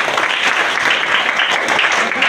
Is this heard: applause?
yes